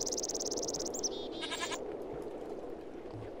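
A goat in the video game Minecraft, played with the Technic Pack, lets out a few quick, high bleats near the start, then quiets over a soft, steady background hum.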